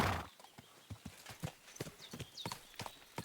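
Horse hooves clip-clop at a steady walking rhythm on hard ground in Kingdom Come Deliverance II, close and clear, with a brief snort near the start.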